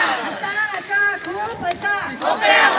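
A laughter club procession marking its first anniversary, with a crowd loudly chanting rhythmic slogans together in the street, voices overlapping in close, continuous waves.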